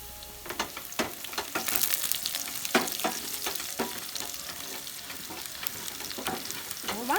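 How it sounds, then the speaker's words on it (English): Roasted sesame seeds and chilies sizzle and fry in a pan while being stirred for a Chinese-style eggplant dish, a steady crackling hiss broken by repeated scraping stirs, close and fairly loud with no talking. "now I'm going to add some sesame seeds"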